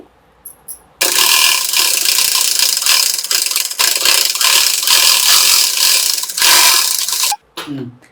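Sewing machine running a second line of stitches over lace on a blouse back neck, a loud continuous whirring run of about six seconds with brief pauses, then stopping, with a short voice at the end.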